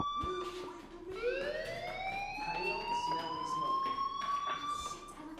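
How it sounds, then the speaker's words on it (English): A loud electronic fire alarm tone in the video game Life Is Strange sweeps upward and then holds a shrill, steady pitch, with faint background noises mixed in. "do you hear that fire alarm?"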